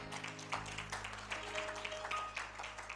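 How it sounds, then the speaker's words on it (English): A Baptist church congregation gives a round of handclaps in praise, soft and scattered, faint in the room, with a sustained organ tone underneath. "Come on and give the Lord a hand clap of praise"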